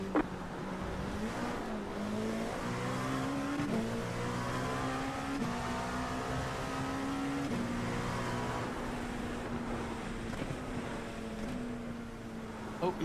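An LMP2 race car engine at Le Mans in the rain is heard from the cockpit, a loud, continuous howl that climbs and drops through repeated gear changes, with no voices over it.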